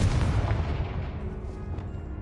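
A Confringo blasting curse in Hogwarts Legacy goes off as a deep, rumbling explosion that booms loud at first and then rolls on, slowly fading.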